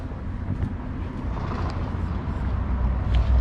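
Low, steady engine drone and road rumble from a 1994 BMW 318is E36 with a 5-speed manual gearbox, heard from inside while driving, with faint ticks and rattles over the continuous noise.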